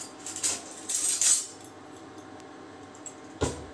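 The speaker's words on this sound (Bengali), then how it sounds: "দেখো এইভাবে আমি হাতা দিয়ে ওপর নিচ নাড়াচাড়া ওলট পালট করে নিচ্ছি" A ladle clinks and scrapes against a metal pot while bottle gourd is stirred and turned, in a few short bursts of clatter with quieter gaps between.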